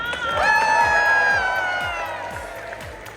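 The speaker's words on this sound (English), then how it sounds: "let's give a big round of applause for how healthy and beautiful she looks" Crowd at the opening ceremony of a pony-themed Ciderfest convention cheers loudly, with high whoops and shrieks rising over clapping, swelling early and then slowly tapering off.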